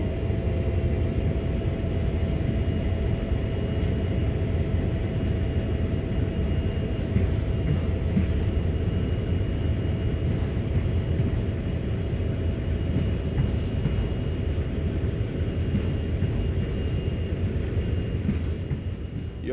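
A CSX heavy-haul diesel locomotive in Train Sim World pulls away from a stop, giving a continuous deep engine rumble that stays steady and fairly loud throughout, with no voices.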